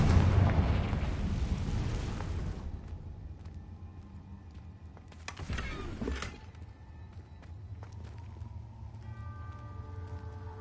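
A Confringo fire spell in Hogwarts Legacy erupts as a loud, dense blast that roars for a couple of seconds, then a second sharp burst follows near the middle before a lingering, crackling tail under quieter magical effects.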